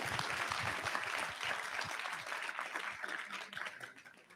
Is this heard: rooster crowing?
no